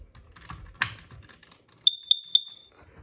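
A PI 9000 smoke alarm gives three short, sharp, evenly spaced high beeps while its alarm memory is reset, preceded by some soft handling clicks and rustling in a quiet house.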